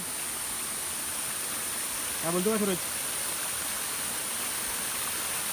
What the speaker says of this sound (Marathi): आयुष्यात कधी असं चांगले धबधबे वाहणारे खलखल करणारे आवाजात बघितलंच नव्हते